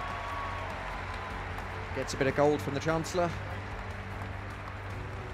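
A stadium crowd at the London 2012 Paralympic athletics applauds a Tunisian race winner, with a steady broad roar under a commentator's voice throughout.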